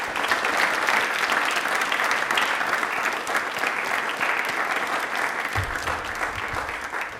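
Sustained, dense applause from a studio audience at a televised Rajasthani quiz programme, steady and loud throughout with no voices over it.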